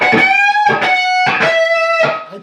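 An overdriven electric guitar works slowly through an intro lick, four or five picked and bent notes in a steady, deliberate rhythm, up close and with no voices.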